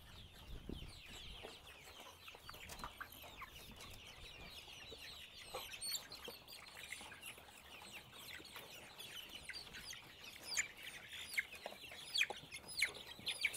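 KUB chickens cluck and chatter in a coop while being fed, with a steady murmur of overlapping soft clucks, occasional sharper calls and rustling nearby, all fairly quiet.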